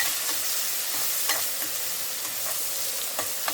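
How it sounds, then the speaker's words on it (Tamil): Green chillies and onions sautéing in a pan for a white cowpea sabzi, a steady close sizzle broken by occasional scrapes and clicks of stirring, with no talking. "இப்போ பாருங்கள், நல்லா வதங்க ஆரம்பிச்சிருச்சு பச்சை மிளகாவும் வெங்காயமும்."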